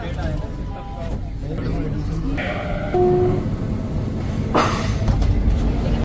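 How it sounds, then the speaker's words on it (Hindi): A Delhi Metro train pulls into the station and its doors slide open: a steady rumble with brief chime tones midway and a sharp hiss-like burst near the end, while people talk nearby. "अपनी मेट्रो तो आ चुकी है ये देखो भाई खुल जा खुल जा ये खुल चुकी है"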